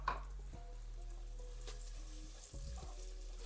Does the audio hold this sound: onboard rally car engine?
no